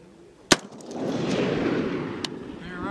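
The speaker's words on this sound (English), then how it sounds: "you're going to be shooting a string of three rounds" A rifle shot at a shooting range gives one sharp, loud crack, and a second fainter report follows about two seconds later, each trailing off into a rumbling outdoor echo.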